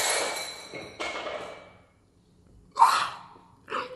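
A glass cup shatters with a sharp crash and ringing tinkle, followed by a second smaller clink; before it, kitchen clatter fades into near silence.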